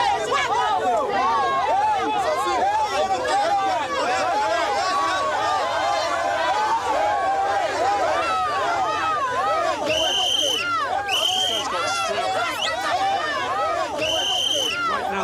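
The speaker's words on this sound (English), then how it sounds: "The crowd is angry with the old man." A crowd shouts and chatters in agitated overlapping voices, a dense continuous babble with a few sharper yells rising above the mass.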